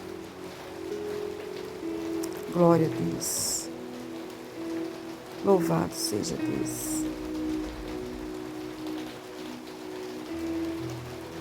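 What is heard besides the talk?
rain falling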